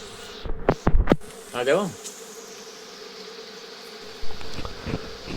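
A natural colony of honey bees crowds its exposed combs, with a constant buzzing drone underneath and a few louder passes as bees fly close to the microphone. A person speaks briefly near the start.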